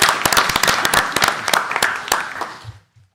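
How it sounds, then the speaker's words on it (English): A crowd at a city council meeting applauds with loud, dense clapping that thins out and stops just before the end. "let's give her another round of applause"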